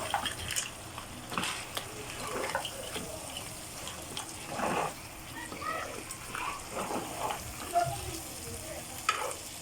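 Crab masala sautéing and being stirred in a pan, with soft sizzling and irregular scraping strokes of a spatula, moderately close and steady, with faint watery sounds in between.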